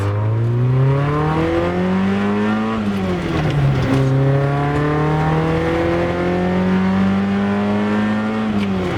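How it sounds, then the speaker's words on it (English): A small Volkswagen Golf engine with an aftermarket Profit exhaust revving up and down repeatedly, its throaty exhaust note rising and falling in pitch, close and loud throughout. "He's actually got an exhaust system on this car, Profit exhaust."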